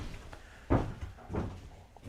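Door of an Amazon Prime delivery van opened or closed, giving two solid thuds about half a second apart, nearby and moderately loud, with no talk.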